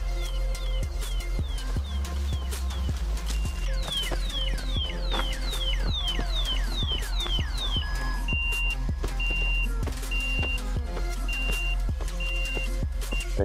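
Anti-theft alarm on a home-built 3000-watt electric bike blaring: rapid chirping, sweeping siren tones that give way to a steady series of repeated beeps, loud and close, with no talking.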